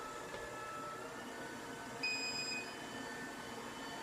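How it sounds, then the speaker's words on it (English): An ECOVACS DEEBOT M80 Pro robot vacuum runs in intensive cleaning auto mode with a steady whirring hum and a brief higher whine partway through. The sound is close and continuous, and nobody talks. "when you put it on intensive cleaning auto mode, it gets slightly louder."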